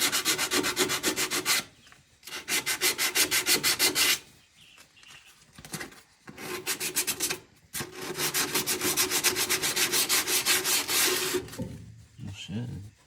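80-grit sandpaper rubs back and forth in fast, even strokes during work on a 1924 Model T Touring, loud and close in several long bursts separated by short pauses.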